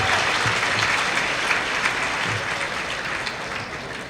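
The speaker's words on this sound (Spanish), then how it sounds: "Un aplauso, por favor, para él." An auditorium audience at an international law congress at Universidad Gerardo Barrios applauds a supreme court constitutional chamber judge, a steady wash of many hands clapping at even strength throughout.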